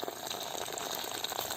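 Cooking water draining off boiled tapioca, a brief continuous splashing, gushing pour heard close and alone.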